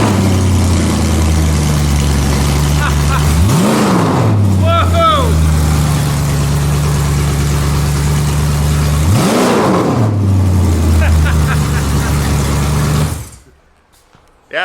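A Mercedes W204 C63 AMG V8 with open LT headers and no exhaust fitted roars at a loud, rumbling idle. Two sharp revs rise and fall before the engine cuts off near the end, and voices are heard under the noise.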